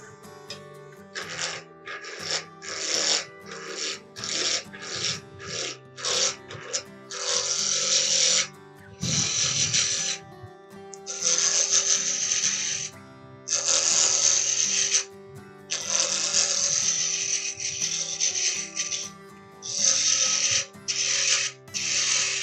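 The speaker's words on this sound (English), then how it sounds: "So now I'm just going to turn this round with my small roughing out gouge again." A small roughing gouge cuts into a spinning wooden birdhouse ornament on a lathe, producing repeated bursts of harsh scraping and chattering, first short and rapid, then longer sustained cuts separated by brief pauses, close and loud over a steady motor hum.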